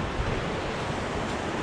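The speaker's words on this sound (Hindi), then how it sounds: "ये पानी की जो आवाज़ आ रही है ना, कितनी बढ़िया लगती है ना" Steady broadband rush of a flowing river in Kasol, Himachal Pradesh, heard up close as continuous, even water noise with no pauses and no voices.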